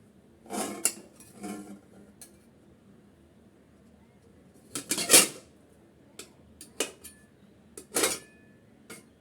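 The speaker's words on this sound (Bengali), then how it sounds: "পাঁচ মিনিট পর আমি ঢাকনা খুলে আপনাদের দেখাচ্ছি একটু উল্টিয়ে নিচ্ছি আমি" A pot lid comes off and a bun cooking on a stovetop is flipped, giving scattered metallic clinks and clatters of lid and utensil against the pan. The sharp, close knocks are separated by quiet gaps, with one louder clatter near the middle.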